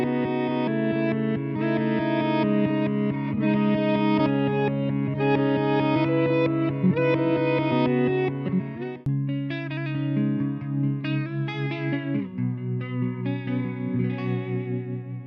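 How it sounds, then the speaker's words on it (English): A Peavey Vypyr VIP guitar amp plays a riff through distortion and modulation effects, giving a thick, driven tone with chorus-like shimmer and echo. It continues unbroken, with a shift in the pattern partway through. "From hard-driving distortion to delay, modulation, and pitch shifting effects"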